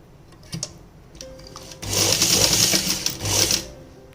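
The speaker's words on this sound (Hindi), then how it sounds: "अब हम इसकी साइड वाली सिलाई लगाएंगे" A sewing machine stitches the side seam of a sleeveless designer kurti with canvas lining, a rapid mechanical whir running for about two seconds after a few light clicks and handling sounds.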